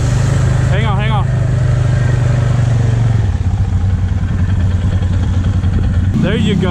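An ATV engine runs loud and close with a steady droning hum that shifts pitch midway, with people talking and shouting over it.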